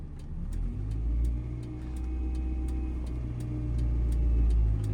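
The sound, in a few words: car pulling off with light accelerator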